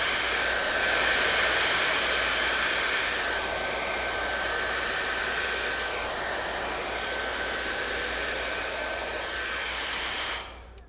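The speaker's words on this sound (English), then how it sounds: "I'm going to switch the nozzle to the more narrow concentrator and then just run through my hair one more time" A T3 AireLuxe hair dryer fitted with a narrow concentrator nozzle blowing through hair, a loud continuous close roar with a steady whine, shifting slightly as it moves, then cutting off at the end.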